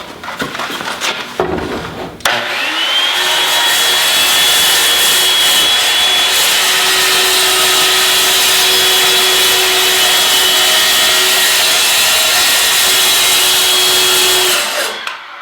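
A power saw cuts a shallow groove around a barrel, about half an inch deep, for a raised garden bed. After a few knocks it becomes a loud, steady whining hiss lasting over ten seconds before stopping.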